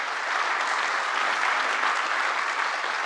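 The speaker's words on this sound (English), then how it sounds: "another big round of applause for Richard." A conference audience at a monitoring tech event applauds a speaker, dense, even clapping from a large crowd sustained at a steady level throughout, with no talking over it.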